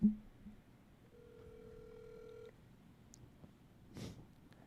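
A single electronic telephone ringback tone sounds for about a second and a half in a quiet room, followed by faint clicks.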